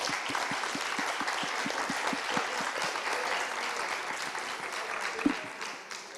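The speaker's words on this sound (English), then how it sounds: "I would like finally, in closing, the audience to join me in giving a big clap to our panelists" Closing applause for the panelists at a university summit, a steady crowd of clapping hands with some distinct rhythmic claps at the start, holding for several seconds before tapering slightly at the end.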